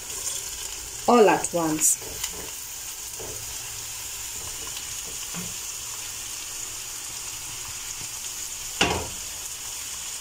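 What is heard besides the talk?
capsicum added and frying in a pan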